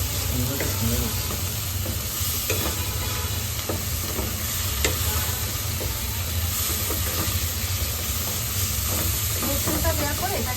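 Onions and garlic frying in oil, giving a loud, continuous sizzle and hiss with occasional stirring clicks throughout and no speech.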